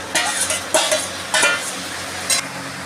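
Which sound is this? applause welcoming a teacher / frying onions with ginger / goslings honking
frying onions with ginger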